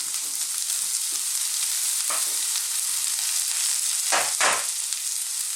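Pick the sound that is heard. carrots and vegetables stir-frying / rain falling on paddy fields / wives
carrots and vegetables stir-frying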